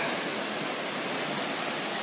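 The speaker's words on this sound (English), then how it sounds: "That's a mighty, mighty wave." Ocean surf on a rocky cliffside coast produces a dense, continuous roaring wash, loud and steady throughout, with no talking.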